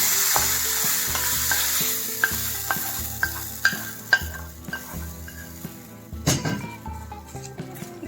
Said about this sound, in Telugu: తాలింపు దీనికి పట్టేలాగా ఒకసారి కలుపుకుంటే సరిపోద్ది